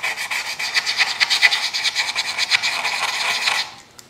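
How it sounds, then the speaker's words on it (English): Sandpaper rubs back and forth inside carved wooden letters on a heart carving, smoothing their sharp edges in a close, loud, rhythmic rasp of quick strokes that stops abruptly near the end. "as I'm cleaning out the inside of these letters, I'm letting it rub a little bit of the sharpness off the edges"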